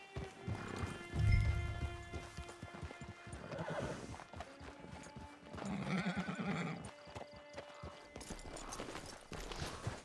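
A horse in the Red Dead Online video game whinnies loudly and repeatedly while its hooves clip-clop in a steady rhythm, close and clear over a busy game soundscape with no talk.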